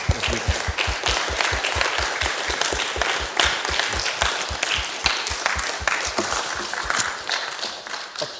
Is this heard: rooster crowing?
no